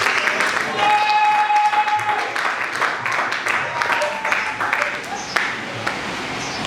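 A congregation applauds at a Sunday thanksgiving church service, with scattered claps rising over voices and ringing tones before thinning out toward the end.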